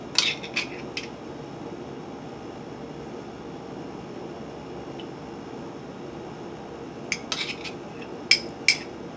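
Metal measuring spoon clinking against a pot while adding miso paste for kale miso soup, a few sharp metallic taps at the start and a cluster of clinks near the end over a low steady hum.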